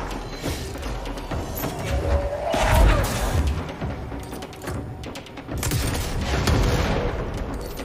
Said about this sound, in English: Jesse will use the surge weapon, which is a grenade launcher with sticky grenades